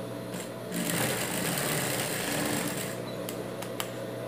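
A sewing machine stitches the hem of a T-shirt, its motor running in one steady high whir of about two seconds, close and clear, followed by faint handling clicks and no speech.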